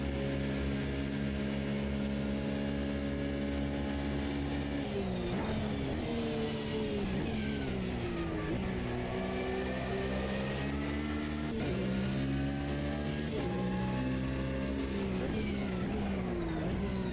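Porsche 992 sports car engine driven hard on a racing lap, a loud continuous drone that rises and falls with repeated upshifts and revving, steady throughout with no voices.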